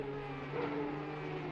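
Porsche Cup race cars pass in a sim racing game at Donington, a steady mid-level engine drone with harmonic whine, fairly faint and unbroken, no voices.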